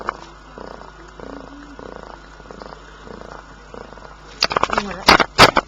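A woman with two tongue piercings imitates a cat's purr, a low rattling purr held steady under faint background noise, then broken into several louder, harsher bursts near the end.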